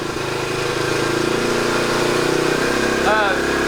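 A shed-find Honda Trail 90 motorcycle engine idles close by with a steady, fast putter, while people talk over it.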